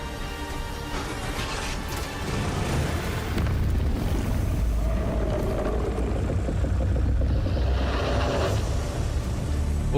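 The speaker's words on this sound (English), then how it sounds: "What was that purple explosion behind him?" A purple explosion in a video game trailer, heard as a sustained loud rumbling boom that stays dense and noisy throughout, with heavy low-end roar and no talk over it.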